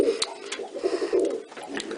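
Pigeons coo steadily in a loft, a low rolling burble repeating close by, mixed with faint wing flutters and scuffles, no voices.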